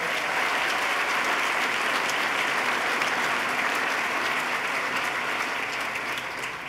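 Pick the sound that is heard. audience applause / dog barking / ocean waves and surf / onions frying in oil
audience applause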